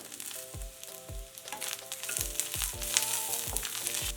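Grated coconut frying in a pan for a chow chow chutney, a close, crackling sizzle with repeated rhythmic scraping of stirring strokes about twice a second, quiet and steady.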